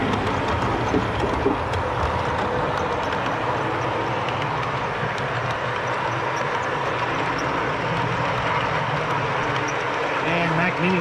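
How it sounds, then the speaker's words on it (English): Rumbling noise from riding aboard a train, a steady broadband roar with faint rhythmic clatter running throughout at a constant level. "I'm on the train watching Sparky run a train"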